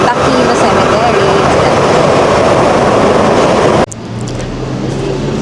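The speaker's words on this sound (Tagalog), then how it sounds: "Ang bilis ng tren." A fast train heading toward Makomanai Takino Cemetery in Sapporo gives a loud, steady rumbling roar with rattling, then the tone drops abruptly into a quieter, lower hum near the end.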